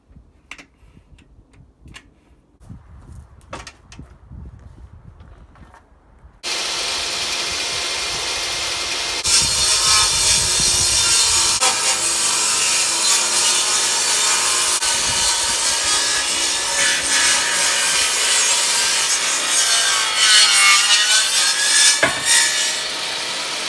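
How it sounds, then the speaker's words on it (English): A power saw rips a wooden stud to width during bus wall framing, with a few seconds of handling and ticking before the motor starts, then a loud, sustained cutting whine that runs to the end. "I'm just gonna rip that down to length or to width"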